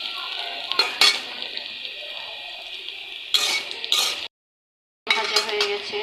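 Boiled bottle gourd greens fry in a pan with a steady broadband sizzle, broken by sharper scraping stirs and utensil knocks, then a short silent gap before frying resumes; no talking.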